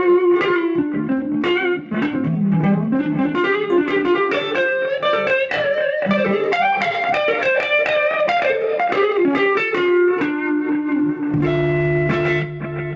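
Electric guitar notes ring through a Boss RE-202 Space Echo delay pedal on its aged setting, repeating echoes trailing behind a melodic line, loud and continuous, ending on a sustained chord.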